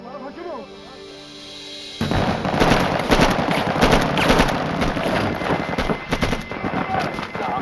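After a quiet tonal opening, a dense burst of rapid gunfire erupts and continues steadily, loud and chaotic.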